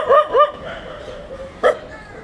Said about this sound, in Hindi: नया डॉगी आ गया है।